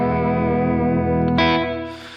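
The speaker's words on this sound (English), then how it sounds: "And I got a lot of reverb going right now, but that's vibrato." A PRS electric guitar with dual humbuckers, PAF-style pickups and a tremolo, sustains a chord with wavering vibrato drenched in reverb, fading out with a brief bright swell near the end.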